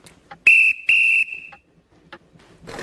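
A toy train engine's whistle gives two sharp, loud toots as it departs, followed by light mechanical clicks and rattles.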